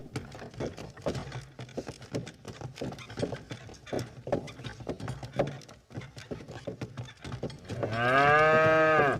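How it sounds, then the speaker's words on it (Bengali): A cartoon bullock cart pulled by two cows rolls along with steady clip-clopping hooves and rustling, ending in a loud drawn-out moo. "লোকটি গরু দুটোকে যেই বলল চল হাট হাট, অমনি গরুগুলো চলতে শুরু করলো।"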